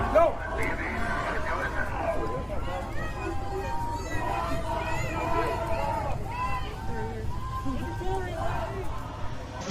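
A crowd at a night protest in Kenosha, with voices shouting and calling out over a continuous murmur and footsteps, close by and busy throughout.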